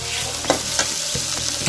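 Jackfruit curry frying loudly in a pan, with a steady close sizzle and several sharp scrapes and knocks as it is stirred, and no talking.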